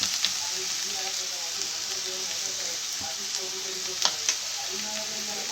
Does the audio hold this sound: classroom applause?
no